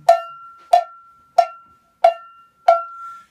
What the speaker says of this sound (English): So if I hit the cowbell